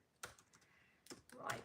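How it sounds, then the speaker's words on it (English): Typing on a computer keyboard during a live chat, heard as short bursts of clicky keystrokes at about 0.2 s and again from 1.1 s, fairly close and moderately quiet, with no talk. "I'm just typing there."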